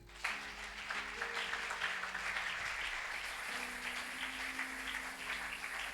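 A church congregation applauds in a steady, dense wave of clapping. It starts abruptly and carries on for several seconds, with faint voices and a sustained tone underneath.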